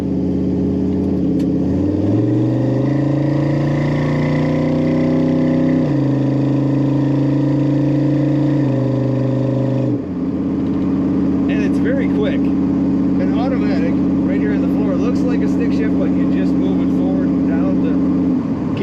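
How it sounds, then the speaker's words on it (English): A 1936 Pontiac Coupe street rod with automatic transmission idles and revs close by, its deep exhaust note rising and falling in steady held pitches, with faint speech in the background. "This car has a great exhaust note."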